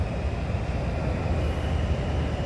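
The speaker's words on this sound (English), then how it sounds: "that's the DC train there" A DC Metro Green Line subway train rolls past outdoors as a steady, loud, continuous rumble and rail noise, with no voices over it.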